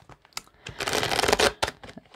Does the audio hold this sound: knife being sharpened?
no